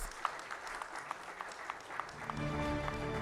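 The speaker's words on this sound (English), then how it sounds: "Please give a huge round of applause." Audience applause for an award winner at a banking and financial sector summit, a faint, steady wash of scattered claps with periodic sharper beats, fading under a low hum near the end.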